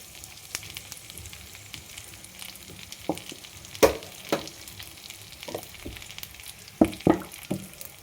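Stuffed brinjal pieces fry softly in a little oil, a faint, steady sizzle broken by scattered louder clinks and scrapes of stirring.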